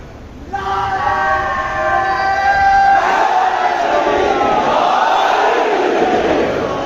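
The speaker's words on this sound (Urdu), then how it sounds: "دونوں ہاتھ بلند کر کے پوری طاقت سے نعرے کا جواب دے گا" A large crowd at a religious gathering in an imambargah shouts a slogan back in unison at full strength, a loud, sustained roar of many voices that rises, holds, and then tails into a swelling murmur.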